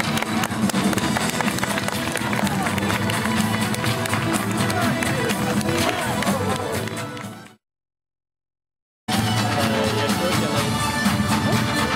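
Crowd applauding at a medieval festival, a dense continuous roar of clapping that cuts to silence partway, then resumes just as full.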